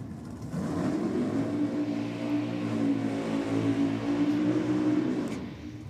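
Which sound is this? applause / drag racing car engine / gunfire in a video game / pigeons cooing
drag racing car engine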